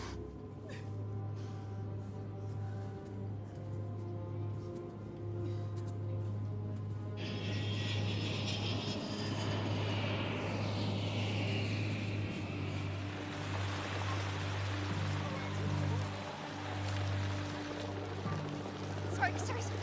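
A passenger airliner in flight in an action movie scene gives a steady, rushing cabin drone and a broad airy roar that swells partway through, with a voice over the top.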